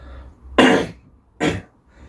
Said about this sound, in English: Well, I've got a tickly cough.